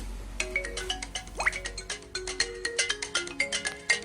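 A phone ringing on command from a BlitzWolf BW-HL3 smartwatch's find-phone feature, playing a bright repeating electronic ringtone melody with rhythmic chiming notes, close and clear, with no talking.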